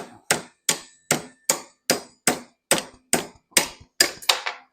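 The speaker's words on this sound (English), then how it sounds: "And then we're just going to take the hammer" A hammer strikes the metal throttle post of a John Deere 1025R tractor about ten times in a steady rhythm, each blow sharp and ringing briefly before the next.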